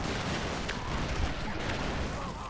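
Explosions in the Broforce video game, a dense rumbling barrage of blasts and pops that runs continuously at steady volume without pause.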